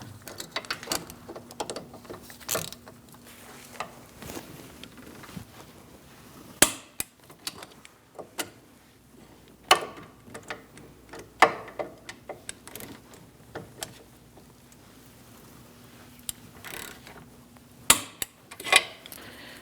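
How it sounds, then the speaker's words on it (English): Rear brake caliper bolts on a 2000-2006 Mini Cooper being tightened with a torque wrench: scattered sharp metallic clicks and ratchet ticks at close range, irregular bursts with quiet gaps, no talking. "Now we're going to tighten those down and torque them to 48 foot-pounds."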